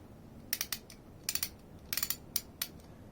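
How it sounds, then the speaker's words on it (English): A Snap-on No. 7 ratchet gives short bursts of crisp, close clicking, several quick clusters of pawl clicks separated by brief pauses, quiet and isolated. "Nice clicky gear set."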